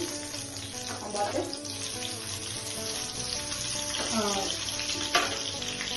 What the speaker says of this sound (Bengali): সরষের তেল অ্যাড করলাম, অ্যাড করে এখানে গোটা সাদা জিরা দিচ্ছি